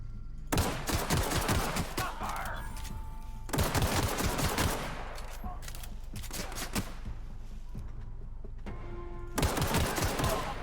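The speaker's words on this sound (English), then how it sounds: "How is he shooting me through the floor?" Enemy gunfire in the video game The Outer Worlds comes in three loud, dense bursts of rapid automatic shots separated by short gaps, with game ambience in between.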